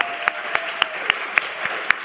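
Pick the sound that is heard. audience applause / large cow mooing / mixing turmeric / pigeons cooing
audience applause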